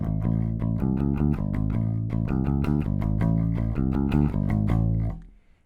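Bass guitar playing a pattern at full track speed, a loud, driving run of quick repeated notes that fades out at the end, with no talking.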